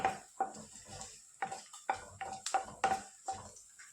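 Chopped ginger frying in oil in a pan for puli inchi, stirred with a spoon in steady rhythmic scrapes and taps over a soft, continuous sizzle, close and fairly quiet, no talking.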